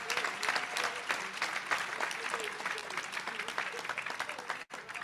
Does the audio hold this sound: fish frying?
no